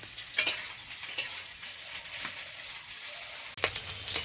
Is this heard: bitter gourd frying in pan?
yes